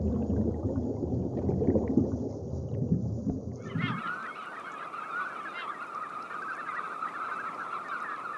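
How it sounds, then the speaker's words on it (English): Large flock of knot shorebirds gathering over a Norwegian fjord at the end of May, a dense, continuous chorus of many calls heard at moderate distance, preceded by a few seconds of low rumbling background. "At the end of May, huge flocks of knot descend upon the fjord."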